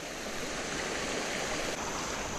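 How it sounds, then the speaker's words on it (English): A creek waterfall pours over a log jam, giving a steady, loud, broadband rush of flowing water that fills the whole stretch without pause. "check out that that waterfall from that log jam"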